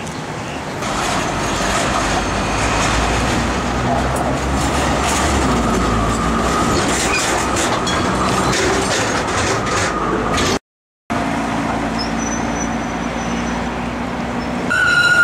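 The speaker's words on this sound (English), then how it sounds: "there's a train coming straight at us" A Melbourne tram rolls along street tracks toward the listener, a steady loud rumble with wheel clatter and squeal for about fifteen seconds, broken by one brief gap near the end.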